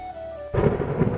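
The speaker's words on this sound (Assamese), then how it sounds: "সেইদিনা বৰষুণ দি আছিল।" A faint steady hum gives way to a sudden loud burst of rain with low rumbling, continuing densely to the end.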